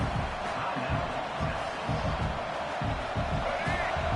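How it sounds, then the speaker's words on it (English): A big stadium crowd in a college football video game, Texas against Texas A&M, roars steadily for a red zone defensive stand, a continuous wash of cheering and noise that holds at a constant level throughout. "This crowd is trying to inspire this defense to make a big red zone stop"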